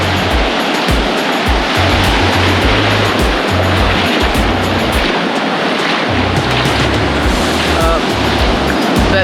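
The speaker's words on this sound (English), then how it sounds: "so the waves out here are like a little bit bigger than I would want to swim in" Atlantic Ocean waves break on a beach in a loud, continuous roaring wash of surf, with heavy wind rumble buffeting the microphone.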